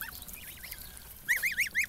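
Geese of the Butovo breed honk nearby in a quick series of nasal calls, faint at first and then four loud honks in a row near the end.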